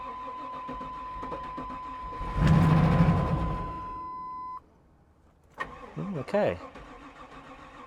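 A Chevrolet Silverado truck damaged by a lightning strike cranks and fires up, a loud burst of engine noise that cuts off abruptly; afterward brief squealing and rasping sounds follow, with a short spoken word in the clip.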